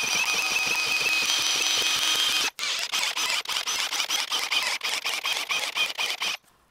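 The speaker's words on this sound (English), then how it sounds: "gotta drill and tap these holes" Drilling and tapping a run of holes in thin metal for a homemade CNC engraver, with a steady high-pitched whine that gives way to a choppy series of short bursts and pauses, close and loud.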